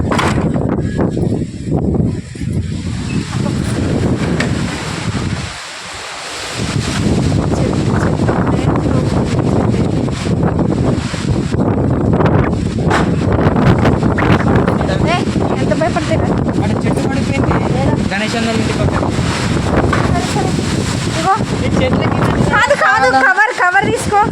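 Strong storm wind with rain in Nizamabad, a loud, continuous roar buffeting the microphone almost throughout, briefly dropping once, with muffled voices underneath.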